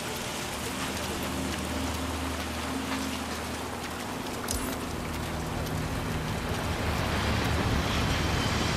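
Steady, dense rain pours down in Hitman 3, a constant hiss on surfaces that holds level throughout with a low rumble beneath.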